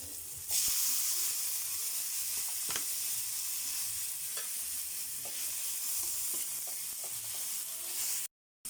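Onion and tomato sizzle steadily in a hot pan while being sautéed, a loud continuous frying hiss with occasional stirring clicks, broken by a brief silence near the end.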